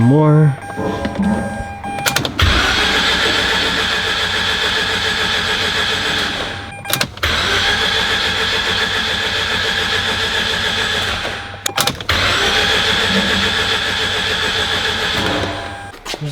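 A Mazda 13B rotary engine cranks and catches three times in a row, each start rising into a loud buzzing idle before cutting off abruptly, with someone speaking briefly at the start.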